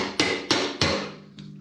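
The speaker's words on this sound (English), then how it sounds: "and then just hammer it around" Three sharp metallic hammer blows drive a fuel gauge sender ring around a 1966 Ford Mustang fuel tank, evenly spaced and ringing briefly, followed by a fainter fourth tap, close and loud with no talking.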